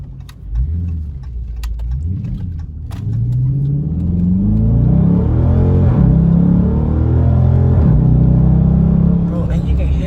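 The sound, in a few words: Dodge Charger engine revving with whine, pedal box mod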